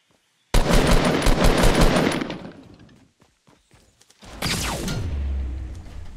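Loud bursts of automatic gunfire in a Fortnite battle royale match rattle for several seconds, then fade into scattered shots, followed by another heavy blast with a whooshing sweep and a low rumble.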